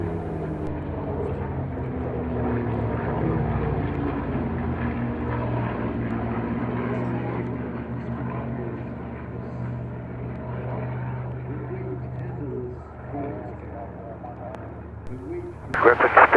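A low-flying Spitfire propeller fighter at the Duxford Flying Legends air show makes a steady droning engine roar that holds for most of the span before fading, with a commentator talking over it.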